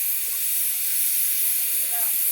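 Mustard oil heating in a kadai gives a loud, steady, close hiss that runs unbroken throughout, with no talk over it.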